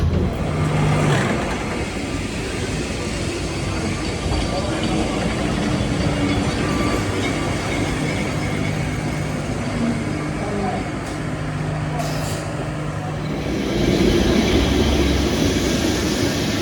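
Riding aboard Lisbon's yellow tram 28E, a steady rumbling interior rattle and rolling drone that swells louder near the end, with a voice talking over it.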